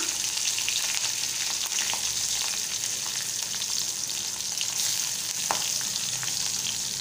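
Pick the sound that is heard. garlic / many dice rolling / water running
garlic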